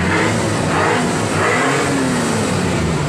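An Isuzu 6HL1 diesel engine with its DPD deleted revs loudly and steadily on a road test, with a continuous, close mechanical roar and no voices.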